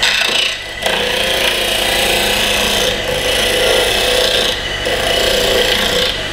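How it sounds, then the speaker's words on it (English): A wooden kendama toy being sanded while it spins on a woodturning lathe: a loud, continuous abrasive rasp with the lathe's hum beneath, briefly dipping a few times as the sandpaper lifts off the wood. "And then I'll sand it."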